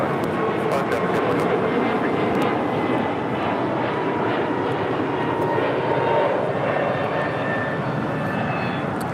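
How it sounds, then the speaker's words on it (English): A Delta A220-300 airliner taking off at LAX, a broad, loud jet roar sustained throughout with a rising whine near the end; people talk faintly underneath. "We have another Delta A220. This is the 300 version. Taking off to San Antonio"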